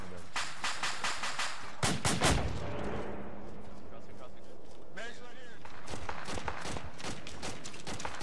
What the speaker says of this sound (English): Hey, where was that heavy gun? It was friendly.